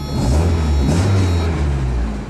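A 1993 four-cylinder car engine revs loudly and steadily for a couple of seconds, its low rumble holding close and continuous with a slight swell partway through.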